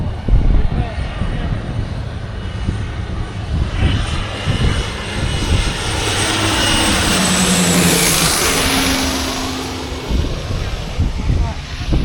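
Airplane passing low over Maho Beach in St Maarten, a roaring engine rumble that builds to a loud peak mid-clip and then recedes, heard over wind and surf noise on the beach.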